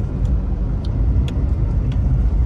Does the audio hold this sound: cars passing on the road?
yes